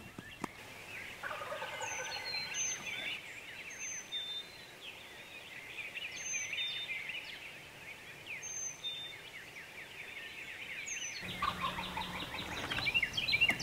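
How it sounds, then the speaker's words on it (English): Several wild turkeys gobble in a field at dawn, one quite close, their rattling calls repeating every second or two over a steady chorus of background birdsong. "We've got 4 or 5 turkeys over here gobbling just like we thought we would have."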